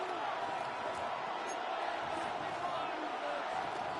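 A roaring stadium crowd in the Madden 26 football video game fills the air as a steady, dense wash of cheering and noise at moderate volume, with no distinct breaks.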